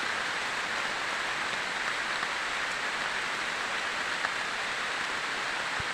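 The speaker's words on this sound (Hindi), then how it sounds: "भाई बारिश आ गई, काफ़ी तगड़ा बारिश हो रही है।" Heavy rain pours steadily in a jungle, a dense, even hiss of downpour without pause, loud and close, with no voices.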